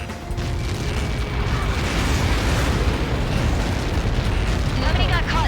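Massive explosion in the combat flight game Ace Combat 7, a loud, sustained roaring rumble with heavy low-end debris noise that swells and persists, with faint radio chatter and tones mixed in.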